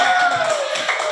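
A class of third-grade schoolchildren clapping together in a classroom, a steady dense patter of many small hands, with a faint whistling tone sliding beneath it.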